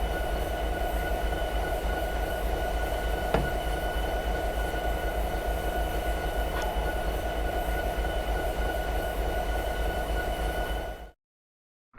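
A simulated train in Train Simulator 2020 rolls to a halt under braking, a steady low rumble with humming tones and a couple of faint clanks, then cutting to silence near the end.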